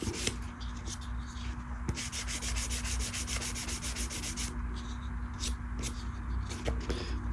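Steady rubbing of sandpaper over lacquer on a bass guitar body, a continuous scratchy back-and-forth with quicker strokes in the middle, close and moderately loud, with a low hum underneath and no one talking.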